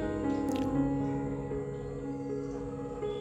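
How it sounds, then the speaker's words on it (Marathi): Salted potato and sabudana dough is worked by hand, giving soft wet squishes and small sticky squelches, close and quiet, with a faint tonal hum running underneath. "त्यानंतर त्यामध्ये चवीनुसार मीठ घालून हे मिश्रण छान हातानेच हलवून घ्यायचं आहे।"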